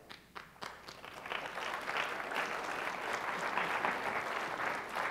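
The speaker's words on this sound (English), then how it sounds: "That was the chair of the school board leading those applause." An audience at a 2018 city address breaks into applause, a dense sustained wash of clapping that builds quickly and holds steady for several seconds.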